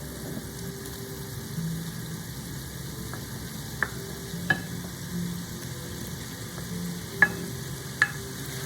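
Shrimp frying in a pan while fried rice is being made, a low steady sizzle with a few sharp spatula clicks against the pan scattered throughout, alone without talk.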